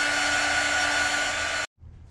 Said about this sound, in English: I'm gonna dry this thing a little bit with my heat gun